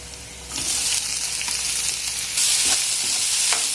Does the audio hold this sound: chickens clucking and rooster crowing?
no